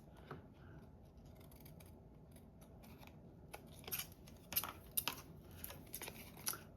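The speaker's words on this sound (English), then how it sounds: "I think I'm going to cut this off instead of wrapping it around." Scissors snipping through paper for a Tim Holtz mini paper doll tag, heard as a run of quiet, close, crisp cuts that grow more frequent toward the end, with no talk.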